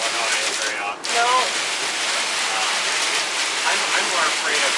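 Heavy storm rain drums steadily on a vehicle while driving in Illinois, a loud dense hiss filling the whole stretch, with a brief dip and faint talk underneath.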